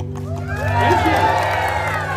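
Audience applause and cheering at a live character show, a broad wash of clapping that swells after the first half-second and carries on loud and steady, with no galloping heard.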